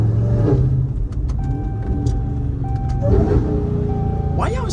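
Dodge Charger Hellcat with loud exhaust and roughly 900 horsepower downshifting hard, engine note dropping and barking with pops, heard from inside the car under light conversation.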